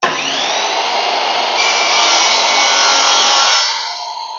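A chop saw with a clamped-on fence makes a loud, close mitre cut through a length of wooden door bead. The motor whines and the blade rasps for about three seconds before spinning down, with no talking.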